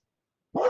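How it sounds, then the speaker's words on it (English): One short dog bark sounds abruptly after a moment of silence, moderately loud and close. "That's my dog in the background."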